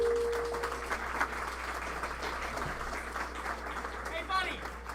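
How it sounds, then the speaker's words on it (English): Audience applause at a talent show fills the room steadily and continuously, with speech faintly audible alongside it. "How about another round of applause for our last act?"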